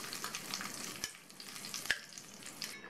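Quiet sizzling and crackling of cashews and raisins frying in oil for payasam, with a few soft clinks of a spoon stirring.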